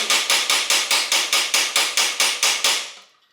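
Hammer tapping a cotter pin into the bottom bracket of a vintage Peugeot bicycle: a steady run of about thirteen sharp metallic strikes at an even rhythm, close and loud, ringing out briefly after the last blow.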